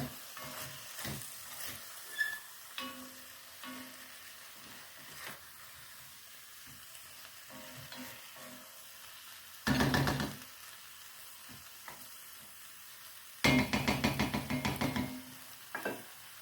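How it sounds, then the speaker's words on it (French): Beef bourguignon in a pot, soft sizzling with scattered scrapes and clinks, broken by two louder bursts of stirring as a spoon works through the meat. "Remuez bien de temps en temps pour pas que ça colle."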